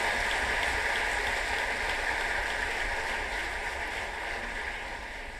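An audience applauds at a national teachers' award ceremony, a dense, steady wash of clapping that holds throughout and fades slightly toward the end.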